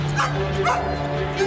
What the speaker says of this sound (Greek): Γιατί γαβγίζεις, τι θέλεις?